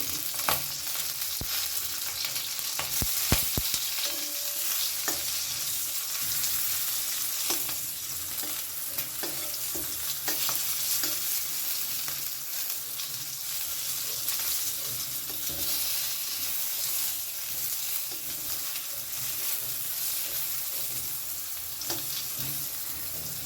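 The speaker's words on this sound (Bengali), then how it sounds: "পটলগুলো ভাজা হয়ে গেছে" Pieces of pointed gourd with a little turmeric and salt fry in a pan over a high gas flame, a continuous loud sizzle with repeated scraping stirs for over twenty seconds, alone without talk.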